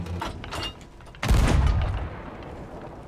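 A ship's cannon in Sea of Thieves fires a firebomb: one loud, deep boom with a burst of broadband noise that tails off over about a second, preceded by faint game ambience.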